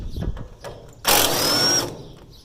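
A power tool whines loudly for about a second while removing a 5/8 bolt on a parts combine being dismantled. Quieter mechanical clicks and knocks come before it.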